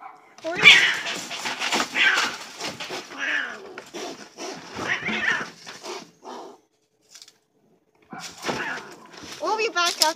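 A cat gives repeated, drawn-out meows close to the microphone, with a brief quiet gap before more plaintive cries resume; voices can be heard around the calls.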